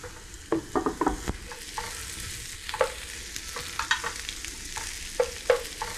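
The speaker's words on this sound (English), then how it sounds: "You just want to cook it so it's a little bit seared on both sides" Vegan ham sears in a hot pan for a pale stew of peas, a soft steady sizzle broken by scattered clicks and scrapes as the pieces are stirred and turned, fairly quiet and close.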